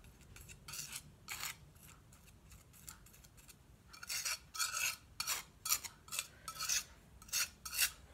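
Palette knife scraping and mixing natural handmade watercolor pigment with water on a palette, a series of short raspy strokes that grow louder and more frequent toward the end, close and without talk.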